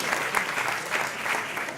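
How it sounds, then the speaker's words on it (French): Sustained audience applause at a university research showcase event, dense and steady with many hands clapping together, filling the room evenly for the whole stretch without any talk. "Je pense qu'on peut applaudir grandement"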